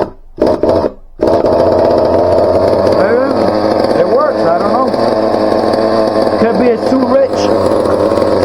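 Team Associated MGT 4.6 nitro RC truck engine running rich, a loud buzzing two-stroke drone with wavering revs and sputters after a few brief catches and cutouts at the start; a person talks over it.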